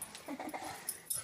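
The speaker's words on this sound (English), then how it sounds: "He's a super dog." A dog gives a few short, soft yips and whimpering sounds close by, quiet and brief.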